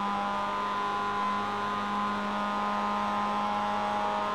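Race cars in a sim racing game on the Indianapolis road course give a steady, droning engine whine at constant pitch, held and even with no talking.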